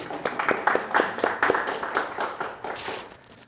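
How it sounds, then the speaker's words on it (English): Audience applause at a language conference breakout session, a scattering of individual claps with distinct sharp hits, moderately close and fading toward the end, no voices over it. "Clap, applause."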